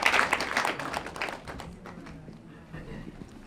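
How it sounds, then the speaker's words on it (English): Audience applause at a sustainable development forum welcoming Professor Shirley Condon, starting as dense, close clapping and thinning into scattered claps over a few seconds, with faint murmuring underneath. "Let's welcome Prof with a round of applause."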